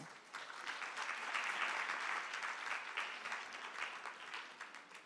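A lecture audience claps in a sustained round of applause, swelling quickly and tapering off over several seconds, fairly distant and moderate in volume.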